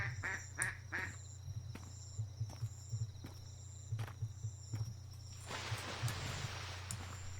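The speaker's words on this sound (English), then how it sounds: "That's a duck." Duck quacking in the lakeside walking video game, several short quacks scattered over a quiet ambient outdoor background, with rustling near the end.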